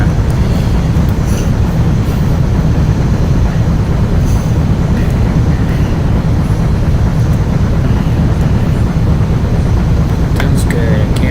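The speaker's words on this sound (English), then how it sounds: "we're driving the mighty Union Pacific Big Boy steam locomotive number 4014" In the Open Rails train simulator, a Union Pacific Big Boy 4014 steam locomotive runs as a loud, constant, dense roar of rolling train noise with a low rumble, close and unbroken throughout, with no voices.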